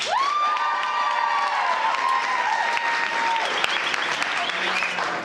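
Audience applause fills the room steadily with some cheering, while a sustained tone glides through the middle, loud and continuous for about five seconds.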